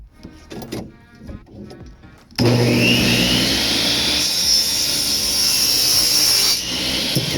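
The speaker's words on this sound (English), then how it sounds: "cutting all my seams at a 45 degree" A power tool cuts a seam at a 45-degree angle during demolition of a trailer, starting abruptly after a quieter stretch of faint knocking and then roaring loudly and steadily before dropping slightly near the end.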